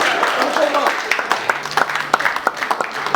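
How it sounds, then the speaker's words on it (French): Applause from guests at a 25th wedding anniversary celebration, lively scattered clapping under a speaker's voice, with talk continuing throughout the short burst. "Applaudissez pour lui."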